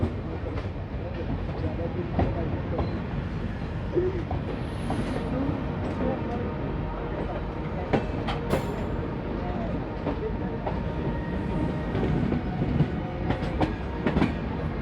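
Passenger train 14526 between Shri Ganganagar and Ambala rolls along the rails with a continuous rumble and repeated clickety-clack wheel beats heard from on board, steady throughout.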